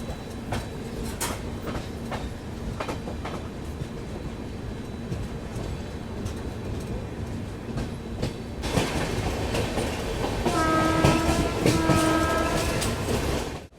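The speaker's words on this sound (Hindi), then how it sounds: "यहाँ सादलपुर जंक्शन में अपनी मुलाकात हो रही है कोयम्बटूर से चलकर हिसार की ओर जाने वाली कोयम्बटूर हिसार AC एक्सप्रेस" The Coimbatore–Hisar AC Express rolls through Sadulpur Junction with steady clickety-clack of wheels over rail joints, growing louder as it nears, and a sustained two-tone horn sounding near the end.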